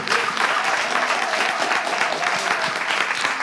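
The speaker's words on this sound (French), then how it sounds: "j'aimerais qu'on puisse applaudir plus nos membres du jury" Audience at a talent show season final applauding the jury members, a loud, steady roar of many hands clapping together for the whole stretch.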